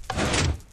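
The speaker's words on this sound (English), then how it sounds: "This door is one way only." A door opens in a video game adventure map, a single short whooshing slide lasting under a second, moderately loud with no talk over it.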